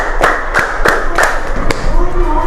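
A class claps a five-clap pattern, five sharp evenly spaced claps in quick succession with light voices under them, then background room noise.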